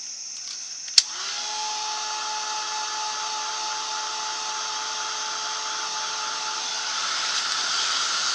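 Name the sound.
heat tool drying stickers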